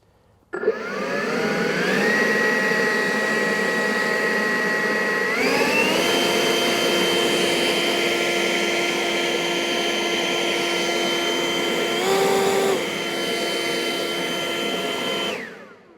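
A Greenworks PRO 80-volt axial leaf blower runs as a loud, steady whine with a strong airflow roar. Its pitch steps up partway through, then drops briefly before it winds down at the end.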